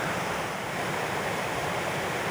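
A steady, continuous roar of rushing water, like a waterfall pouring nearby, with no voices.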